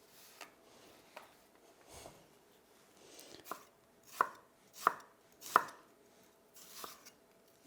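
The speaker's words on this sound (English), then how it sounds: "we're going to gently julienne the ginger" A knife finely julienning fresh ginger on a board gives soft, irregular taps, building into a few sharper, louder chops that come at roughly even spacing, close and quiet with no talking.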